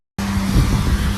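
A car pulls away close by with a sustained tire squeal over its engine, loud and steady for about a second after a brief silence.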